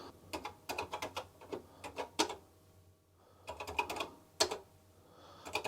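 Someone types a command on a computer keyboard, and the close keys clatter in two quick bursts with a short pause between them.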